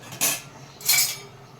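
Palnadu-style bottle gourd sambar is stirred in a pot with a spoon, making two distinct metallic scraping strokes against the pot, close and clear with no talking.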